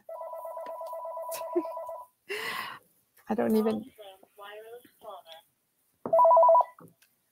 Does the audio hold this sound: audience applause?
no